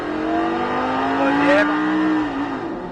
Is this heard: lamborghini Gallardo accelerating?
yes